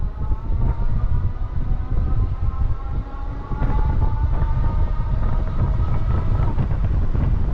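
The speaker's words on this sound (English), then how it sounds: "I guess the occasional train has to come through." A train rumbling past nearby, heavy low roar with wheel and rail clatter and a drawn-out horn-like tone, steady and loud throughout.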